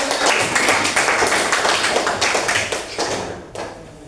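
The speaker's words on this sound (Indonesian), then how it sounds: "Wah, luar biasa, tepuk tangan." A classroom group claps for presenters during a teacher-training lesson, a dense run of hand claps with sharp taps standing out, fairly close and steady before tapering off near the end.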